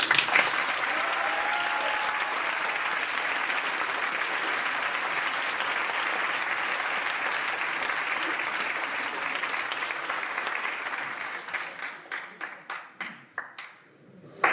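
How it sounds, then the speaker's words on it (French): Theatre audience applause during a staged mock trial, dense sustained clapping filling most of the time before thinning into scattered claps and fading out near the end. "un tonnerre d'applaudissements pour Ethel Baudin."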